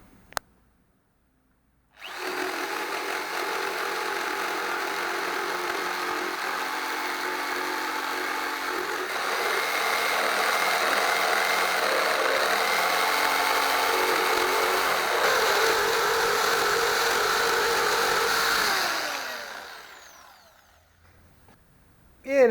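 A Philco jigsaw cuts through pallet wood in one steady, loud, buzzing run of about seventeen seconds, rising slightly in intensity partway through, then winding down and stopping.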